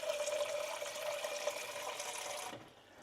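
Water pours steadily into a container for a banana soy protein breakfast shake, a continuous splashing fill that carries on for about two and a half seconds and then stops.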